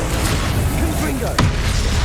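Confringo fire-blast spell cast in the Hogwarts Legacy video game: a single sharp, bright burst midway through, standing out briefly over a steady rumbling wash of game noise.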